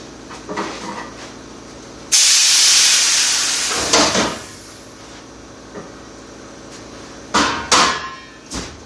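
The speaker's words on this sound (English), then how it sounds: "I'm going to clean up the steel in the bead blaster" A bead blaster cleaning steel gives a loud steady blasting hiss for about two seconds, followed by shorter bursts of hissing air and occasional knocks and clunks from handling the cabinet.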